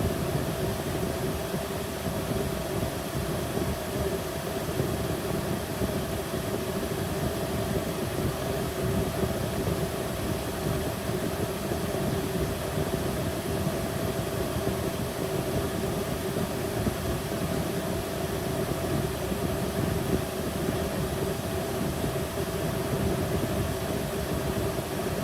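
A 1998 Jeep Wrangler TJ sits idling with its air conditioning running on a 102-degree day, giving a steady, loud engine hum and fan drone that does not change over the whole stretch, with no talking.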